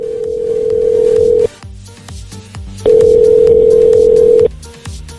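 Two long, loud telephone ringback tones sound with a pause between them, a steady buzzing tone repeating as if a call is waiting to be answered.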